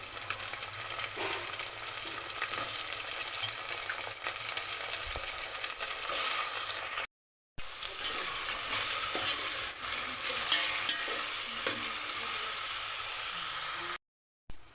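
Potato pieces and onions frying in a pan, giving a continuous dense sizzle with faint stirring scrapes, close and steady, briefly cut by short gaps of silence.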